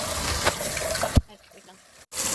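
Cold tap water splashes and gushes over a boiled pork leg for crispy pata, a loud continuous rush that cuts off abruptly partway through, leaving a quieter gap before the flow resumes.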